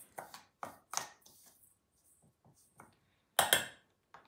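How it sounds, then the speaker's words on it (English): Dry ingredients with desiccated coconut being stirred together in a bowl for blondie bliss balls: a few sharp scraping, clattering bursts separated by quiet gaps, with one loud burst near the end and no talking. "so I'll mix them together"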